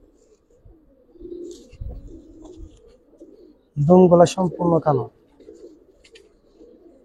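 Black-necked male Giribaz pigeon with pearl eyes cooing in a burst of throaty repeated coos lasting about a second, close by, with people talking before and after.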